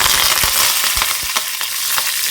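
Curry leaves drop into hot oil with golden-brown lentils for a South Indian tempering, giving a loud, continuous sizzle with sharp crackles and stirring scrapes, close up.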